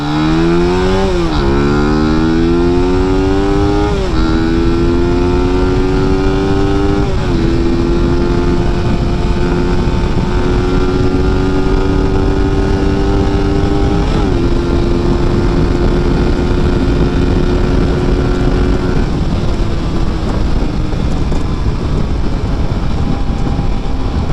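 A motorcycle fitted with a racing ECU, still not properly tuned, holds near its top speed of about 131. Its engine drones loud and close throughout, with a few brief dips in pitch as it shifts before settling into a steady high whine.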